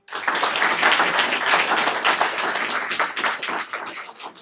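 Audience at a school district board meeting gives a big round of applause honoring a middle school staff member, loud dense clapping from the start that thins and fades toward the end.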